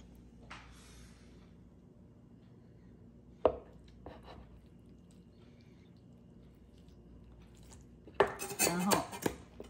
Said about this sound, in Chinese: 我们现在把豆腐呢，先给它切成这样的5个片儿